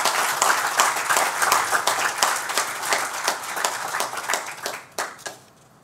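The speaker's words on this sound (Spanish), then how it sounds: "A ellos tributemos también un fuerte aplauso." An audience applauds at a public tribute event with a steady, dense wash of clapping that holds for several seconds, then thins to a few scattered claps and fades out.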